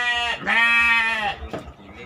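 Hungry goats bleating at close range, a long loud wavering cry followed by a shorter bleat, with faint farm background noise.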